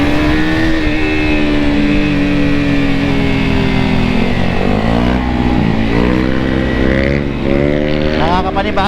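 A KTM RC 200 motorcycle engine idles and revs loudly up close, a dense continuous drone whose pitch dips and climbs through several throttle blips.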